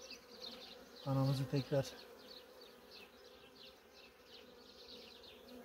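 Honeybees buzzing around a split hive while a Carniolan queen is introduced, a steady faint hum of many bees close by, with a brief louder humming burst early and a few soft spoken words.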